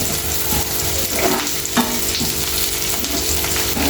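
Onions for an egg curry frying in a pan with curry leaves, giving a steady close sizzle with a few soft stirring knocks, loud and continuous with no talking.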